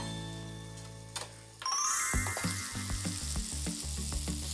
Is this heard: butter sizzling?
yes